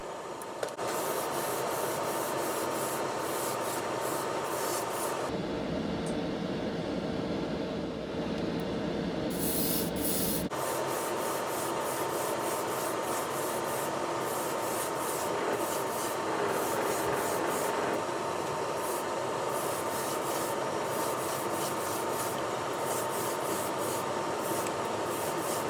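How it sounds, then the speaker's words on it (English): Tamiya Silver spray paint is laid down as a base coat on a Corgi Toys 310 Corvette Stingray model car, a continuous loud hiss of aerosol with one short pause, then steady spraying resumes without any talking. "I'm now applying some Tamiya Silver as a base coat to put the final colour over the top of."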